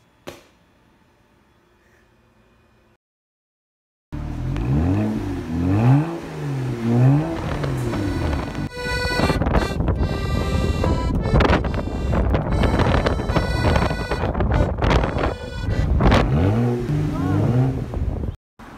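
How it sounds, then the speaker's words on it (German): After a few seconds of near silence, a car engine roars to life and revs loudly in rising and falling sweeps as the car drives off, staying close and strong to the end. "Aber es ist eine fantastische deutsche Erfindung, das Auto."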